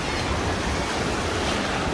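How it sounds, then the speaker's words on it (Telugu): Sea waves washing up the beach at Murudeshwar, a continuous roaring surf mixed with wind buffeting the microphone. "ఇక్కడ దాకా కూడా వస్తాయి అలలు"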